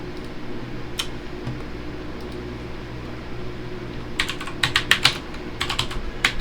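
Keystrokes on a computer keyboard, sparse at first, then a quick run of crisp, close clicks near the end over a steady fan hum.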